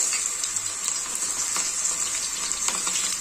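Cauliflower (gobi) pieces frying in hot oil for gobi dry fry, a steady bright crackling sizzle with occasional sharper pops, continuous and fairly close, with no voices.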